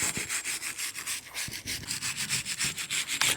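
Steady back-and-forth rubbing down of a narrowboat's surface outdoors, a rhythmic abrasive scraping repeating about every quarter second, close and fairly loud, with no talking.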